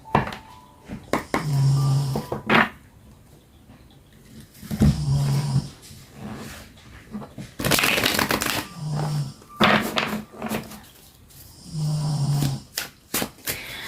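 Tarot cards shuffled by hand in bursts of riffling and slapping, close and repeated several times with short pauses between.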